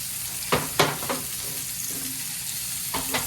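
Pork chops browning in a pan give a steady close sizzle throughout, broken by a few short scraping or stirring bursts, and no one speaks.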